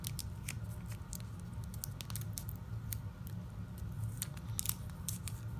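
Tape torn and pressed along the edge of a homemade lightsaber, giving a steady run of short crackling, snipping bursts over a low continuous rumble, close and moderately quiet.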